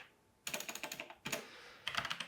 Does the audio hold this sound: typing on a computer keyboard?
yes